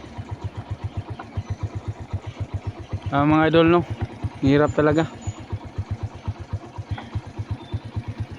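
A borrowed motorcycle engine idles steadily in a fast, even putter that runs through the whole clip, with someone briefly talking over it midway.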